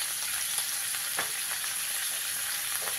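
Small morula fish frying in a pan with salt, turmeric and green chillies, a steady close hissing sizzle with occasional soft stirring sounds and no talk.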